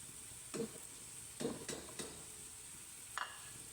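Onion with ginger-garlic-chili paste and tomatoes fries for pulao, a faint steady sizzle broken by a few brief stirring scrapes of a spoon in the pan, with no talk.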